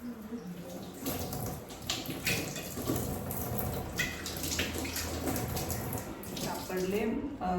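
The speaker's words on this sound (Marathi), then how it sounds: "आणि अगोदर आता आंबे स्वच्छ धुवून चीक काढून घ्यायचा" Homegrown Hapus (Alphonso) mangoes are washed under running tap water, a steady splashing flow broken by irregular sloshes and handling sounds, with someone talking over it at times.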